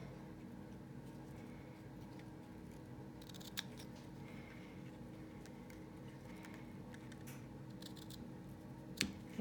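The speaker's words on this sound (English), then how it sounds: "I'm gonna trim that off a little bit. Grab my ribbon scissors." Ribbon scissors trim the end of a ribbon on a handmade card, giving a couple of soft, close snips against a quiet background.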